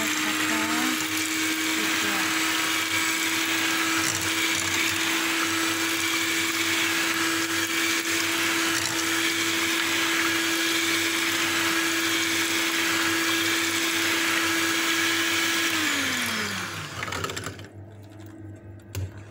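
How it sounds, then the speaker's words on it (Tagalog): Electric mixer blending orange cake batter, a loud, steady whirring hum that runs continuously for most of the time, then winds down and stops near the end. "kukunin natin yung mixer. So, i-blend natin ng maayos"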